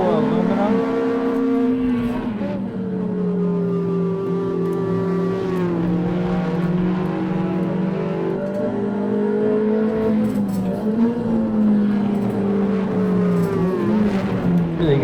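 A Ferrari 360 engine revs hard and climbs through the gears on the Nürburgring Nordschleife, its harmonic pitch rising and dropping with each shift. The sound is loud and continuous, and a voice talks over it.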